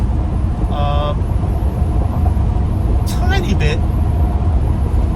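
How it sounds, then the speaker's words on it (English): Loud, continuous road rumble from a Class B RV driving at highway speed while passing a large truck, with brief tonal squeals and hisses over the steady roar. "So as I'm passing this truck"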